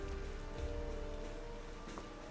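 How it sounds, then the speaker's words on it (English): Steady rain falling across a Tears of the Kingdom game world, a soft continuous hiss of drops on surfaces with a low ambient drone beneath, even and unbroken throughout. "Keep in mind, it is raining."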